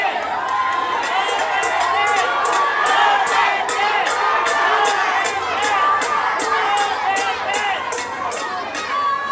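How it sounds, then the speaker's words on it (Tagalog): A large crowd at a Philippine political rally in Manila chants a candidate's name in rhythmic, repeated shouts, dense cheering voices pulsing steadily throughout. "Ang sigaw ng mga tao ay Duterte."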